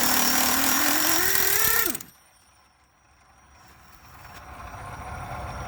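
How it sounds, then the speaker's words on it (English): Air-powered impact wrench working a 3/4 inch bolt on a Jeep JK rebuild, a loud rattling whir for about two seconds that cuts off abruptly, followed by quiet workshop hiss. "use a 3/4 inch with the impact wrench, the air powered impact wrench, and just really lay on them"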